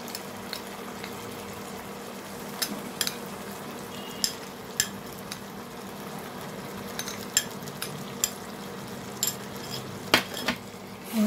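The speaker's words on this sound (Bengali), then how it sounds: "নাড়তে হবে বারবার যাতে তলায় মশলাটা লেগে না যায়।" A utensil stirs Kerala-style mutton curry masala with coconut paste in a pan. Scattered sharp clicks and scrapes of metal on the pan sound over a soft, steady sizzle.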